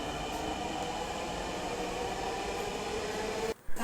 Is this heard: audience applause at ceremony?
no